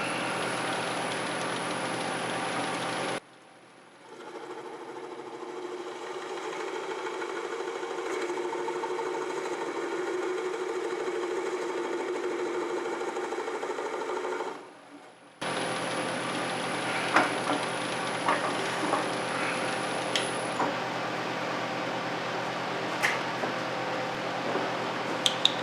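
A lathe hums steadily while a tool cuts a shallow recess into a spinning plywood bowl, a continuous even scraping drone that pauses briefly and resumes with faint ticks and taps.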